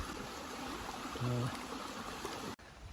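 Riddle Brook runs in a steady close wash of flowing water near a hiking-trail bridge, and a brief voice sounds partway through.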